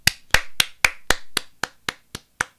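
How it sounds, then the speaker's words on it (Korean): A single person clapping during a Korean livestreamed radio chat, ten sharp, evenly spaced claps, close and fairly loud, with no talk over them. "박수 좀 쳐도 돼요"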